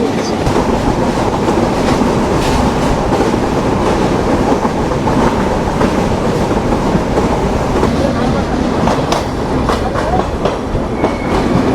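Benapole Express passenger train, with Chinese CRRC and Indonesian PT INKA coaches, running at high speed on the tracks, a loud continuous rumble and rhythmic clatter filling the whole stretch.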